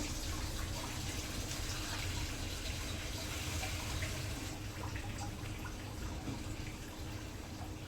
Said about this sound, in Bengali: অল্প একটু পানি দেবো